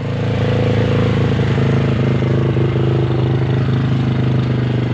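A Barako motorcycle engine held at a steady 2,000 rpm while warming up, a loud, close, continuous mid-pitched drone with fine rapid pulsing and no break or pause.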